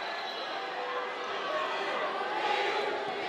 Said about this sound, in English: The home crowd just getting into this one